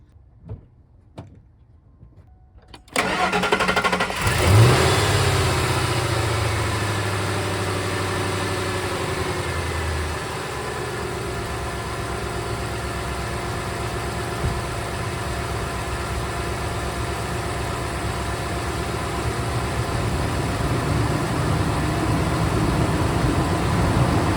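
A car engine, just rebuilt, cranks and catches at about three seconds, revs loudly, then settles into a steady, rough idle that runs close and alone for the rest of the stretch.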